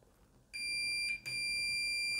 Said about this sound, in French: Par contre, sur le jack, ça bip.